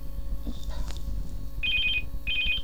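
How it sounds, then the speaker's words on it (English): A phone rings in two short bursts of bright, warbling electronic tone, each lasting about half a second, over steady low background hum with some faint brushing sounds earlier. "Phone rang, something from my parents."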